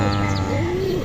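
Domestic racing pigeons coo softly nearby after release, a couple of low rolling coos and short chirps over a steady background hum.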